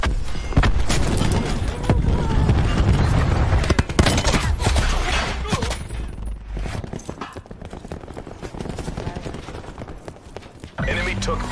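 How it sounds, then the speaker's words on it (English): Cluster grenades in Call of Duty Black Ops 4 burst in a rapid, crackling string of explosions amid gunfire, loud and busy at first, thinning to scattered pops before another blast near the end. "Cluster grenade going out."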